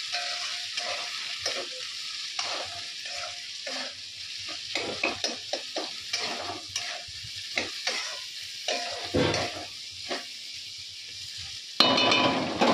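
Spices fry in oil in a pan with a soft, steady sizzle, broken by repeated scraping and stirring knocks from a utensil at an uneven rhythm.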